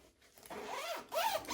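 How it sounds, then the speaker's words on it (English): A smooth zipper on an ultralight backpacking camping chair is pulled in two quick, close zipping strokes with no talking. "Very smooth, that zip."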